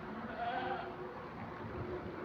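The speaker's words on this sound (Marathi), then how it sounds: "माझ्या सर्व शेळ्या इथे बसलेल्या आहेत" Goats sheltering under a bridge during heavy rain let out a faint, wavering bleat from nearby, set against a steady hiss of rainfall.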